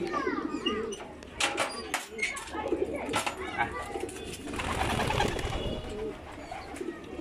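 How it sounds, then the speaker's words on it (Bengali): Pigeons being released, soft cooing and fluttering close by, with wingbeat-like bursts and faint chirps, along with scattered background voices. "তাইলে দেখেন আমি কবুতর ছেড়ে দিচ্ছি"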